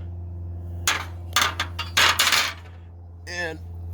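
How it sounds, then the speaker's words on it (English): A metal bar is worked out from under a 2018 or later Honda Accord during a downpipe install, giving several close metallic clanks and knocks in irregular bursts over a steady low hum, then a brief ringing scrape. "Now this bar can be snaked out"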